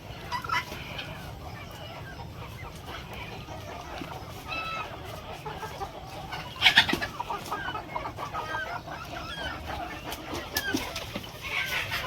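Free-range village chickens cluck and murmur steadily in the background at midday, with a brief louder squawk midway, over a constant outdoor hum.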